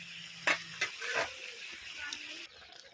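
Chicken liver frying in a pan gives a faint, low sizzle while a spoon stirs it in a few scattered scraping knocks, quiet and close with no voices.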